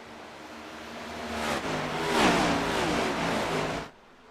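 Race cars accelerate on the Indianapolis track during a Cup Series playoff race. A broad engine roar builds and swells as cars pass, then cuts off abruptly near the end.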